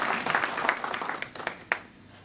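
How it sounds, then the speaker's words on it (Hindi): An audience claps for the founders at an anniversary event, a brief burst of applause that thins out into a few scattered claps and fades away. "एक बार इनके संस्थापकों के लिए जोरदार ताली हो जाए"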